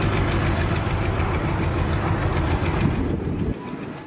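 Diesel locomotive train passing close by, a loud steady engine rumble with rolling wagon clatter that drops off abruptly near the end.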